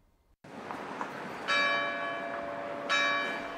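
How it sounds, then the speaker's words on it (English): Church bells at Baltimore's Basilica of the Assumption ring out loud and resonant, with two strong strikes about a second and a half apart whose ringing tones linger and overlap over the outdoor ambience. "The bells chime here at the Basilica of the Assumption, at the Cathedral of Mary our Queen, and all across Baltimore"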